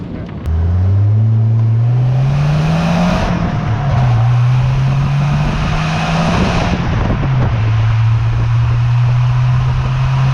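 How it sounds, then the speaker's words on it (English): A 1987 Ford Thunderbird Turbo Coupe with the turbocharged 2.3 L four-cylinder accelerates hard through the gears from the cabin, engine pitch climbing steadily, dropping at each shift, then rising again, with a faint turbo whoosh on top. "you get that awesome turbo whoosh as it's pulling you through the gears"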